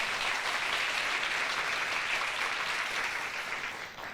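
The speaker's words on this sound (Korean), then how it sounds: "이럴 때 박수 한번 주세요." An audience at a lecture about local magicians in South Korea's Gyeongnam region gives a steady wash of applause that holds strong and then thins out toward the end.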